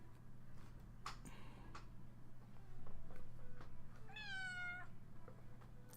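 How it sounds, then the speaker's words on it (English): A cat meows once, a short rising-falling cry near the end, over a quiet room with faint ticks and a low hum. "What are you meowing about?"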